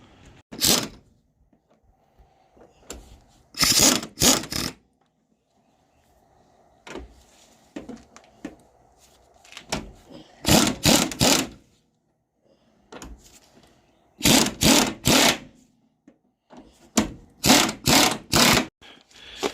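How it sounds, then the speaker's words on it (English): Bolts on a Foxbody Mustang's front strut and caster camber plate are tightened with a tool. Repeated loud bursts of rapid mechanical whirring come in groups between quieter clicks and handling noises, with no talk. "We're gonna tighten this down, then we're gonna try to adjust the wheel to the proper angle."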